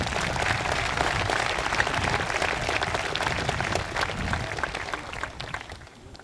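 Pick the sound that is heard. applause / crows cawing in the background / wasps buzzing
applause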